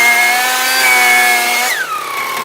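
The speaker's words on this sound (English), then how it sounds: "we're gonna use a blower" A powered blower running on an air conditioner to clear debris from its fins, a loud, steady motor whine with strong tonal harmonics that drops in pitch near the end as it winds down.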